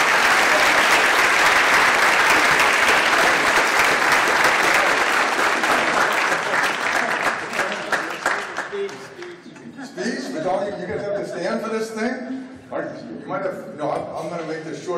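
A crowd gives a big round of applause for public servants in Hawaii, loud sustained clapping that fades after about eight seconds into scattered claps, chatter and talking voices.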